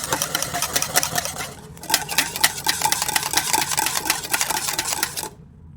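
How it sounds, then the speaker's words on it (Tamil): Wheat cake batter with milk being beaten by hand, a fast steady clatter of whisk against bowl running continuously for several seconds before stopping abruptly. "ஸோ பால் நல்லா அதுவும் நல்லா அடிச்சுக்கோங்க."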